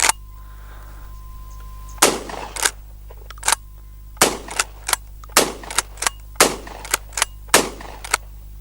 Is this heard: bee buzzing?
no